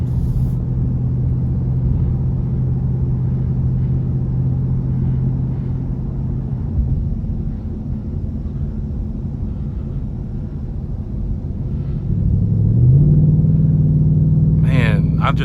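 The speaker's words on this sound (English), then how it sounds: "Man, I just love that rumble, guys. Like, just barely touching the gas, just hearing those valves open and hearing that rumble." A Ford Mustang Mach 1 V8 rumbles through its exhaust at idle with light throttle, a deep steady burble that swells as the valves open near the end. A voice talks over it.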